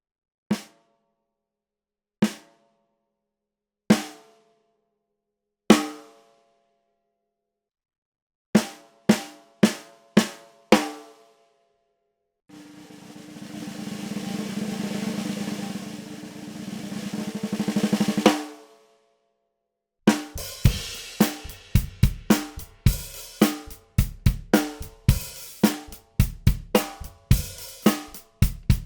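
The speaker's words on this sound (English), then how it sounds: "So we're fitting our Supraphonic today with a coated G1, single ply, 10 mil, pretty normal kind of head, tuned in the medium up range where we like to tune this drum" Ludwig Supraphonic snare drum fitted with a coated G1 single-ply 10 mil head tuned medium-high: spaced single hits with open ring, a sustained buzzing roll, then a rapid flurry of strokes, close and alone.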